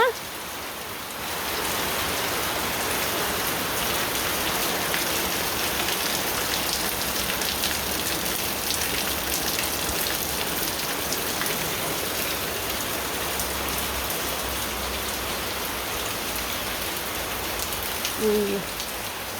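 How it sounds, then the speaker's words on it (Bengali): Heavy, steady rain pours down continuously, a dense even hiss of drops with no pauses. "বৃষ্টি পড়বারই নিছি"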